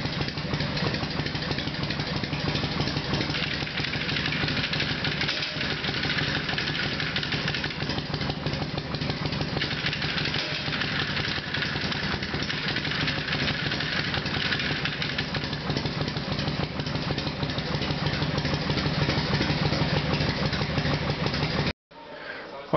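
A 1984 FX motorcycle engine idles steadily with a continuous low rumble and light mechanical clatter, close and constant for about twenty seconds before cutting briefly near the end.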